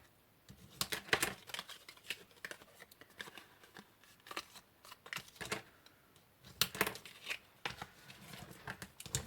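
Paper for a Christmas cracker is folded and creased with quick, soft rustles and crisp taps in irregular bursts, close and fairly quiet, with no talking.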